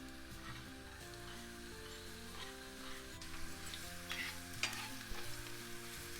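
Onion sizzling in oil in a frying pan, a steady close crackle and hiss under a melodic music bed, with occasional stirring scrapes rising toward the end.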